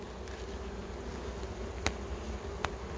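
Honey bees hum steadily around an open National hive during an inspection, a continuous close buzzing drone broken by two faint brief clicks.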